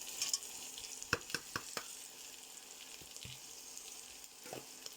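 Boiled potatoes hit a pan of frying onions with a soft, continuous sizzle, joined by a few sharp clinks of a spoon stirring against the pan early on.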